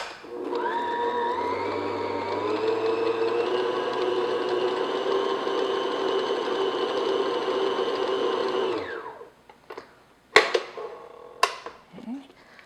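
An electric mixer beats room-temperature full-fat cream cheese until smooth, a steady, close whirring drone for about nine seconds that then stops, followed by a few sharp knocks and clinks.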